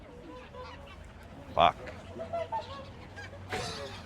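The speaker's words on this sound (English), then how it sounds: "just like these geese are being fed by bread" Geese being fed bread give a loud honk, followed by a few quieter honks and squawks nearby, with a short spoken exclamation and outdoor background noise.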